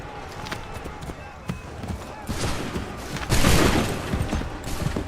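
A musket volley in the Assassin's Creed III video game: scattered shots, then a dense, louder burst of gunfire near the end, over a busy battlefield din with shouting voices.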